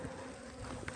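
Bees buzzing around a syrup feeder set out to feed relocated colonies in the highlands, a dense steady hum from many insects close by with no talking.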